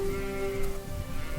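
A sheep bleats in a village pasture, a short wavering call sounding over a steady tonal drone.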